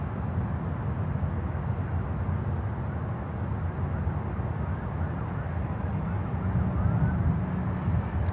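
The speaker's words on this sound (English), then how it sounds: "we have a United Airlines coming in from Newark, New Jersey" A United Airlines airliner arriving at Miami airport from Newark gives a steady, distant broadband roar that stays fairly even throughout with no talking.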